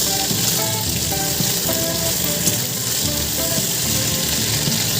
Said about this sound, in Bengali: এখন সুন্দর ভাজা ভাজা করে নেবো একটু ভাজা ভাজা হোক